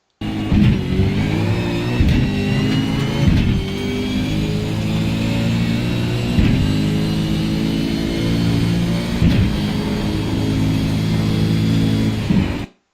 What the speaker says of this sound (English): we're going to short shift through the next couple of gears, and we'll eventually be in top of 5th gear or 6th gear